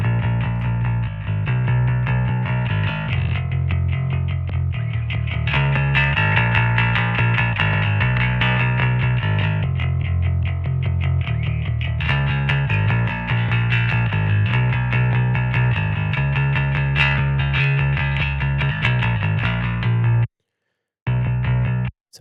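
An electric guitar plays a continuous strummed, sustained passage through an SSL 4kB channel strip with its high-band EQ engaged, loud and steady, with a brief dropout near the end.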